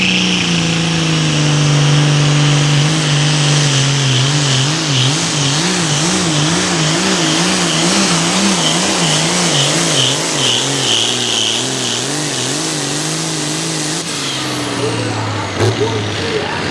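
A championship pulling tractor's engine revs loudly and steadily for most of the stretch, its pitch swelling and wavering in a rhythmic wobble before dropping off near the end, with a voice faintly underneath.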